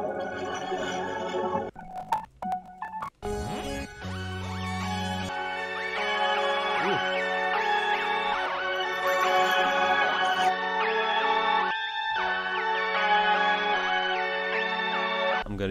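A music sample in FL Studio pitched down one semitone plays as a steady melodic loop with sustained tonal layers, briefly broken by a few stuttering cuts near the start and a short dropout later.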